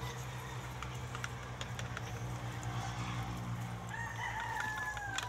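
Chickens cluck in a pen of pullets while a rooster crows near the end with a rising, drawn-out call, all fairly quiet against a low background hum and no talking.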